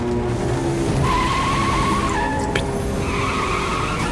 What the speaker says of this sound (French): je t'ai entendu déraper